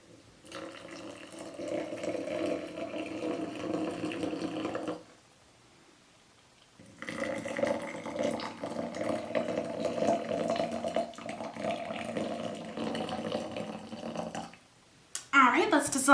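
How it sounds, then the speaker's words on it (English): Hot water pours into glass jars for a salt and sugar dissolving experiment, a steady running splash for about four seconds, a brief pause, then a second longer pour of about eight seconds, ending with a short clink. "So I'm going to fill up each jar to this 200 line"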